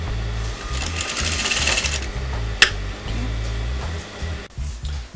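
A sewing machine stitches fabric onto canvas in a fast, steady mechanical rattle, loud and close, with one sharp click partway through and a brief pause near the end.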